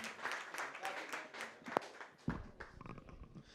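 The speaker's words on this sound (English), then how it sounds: "please give yourself a clap again" Attendees at a motivational talk clap for themselves, a quiet, scattered patter of applause with voices at first, then a louder burst of claps toward the end.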